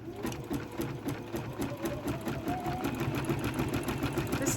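A sewing machine locking a stitch on a scrap applique project, a close, fast, even mechanical whirring and clatter running steadily throughout with no talking.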